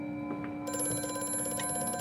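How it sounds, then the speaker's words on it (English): A telephone rings inside the horror video game Amnesia: A Machine for Pigs, its ringing tone continuous and fairly loud against a dark ambient hum, with no talking over it. "the phone is ringing again"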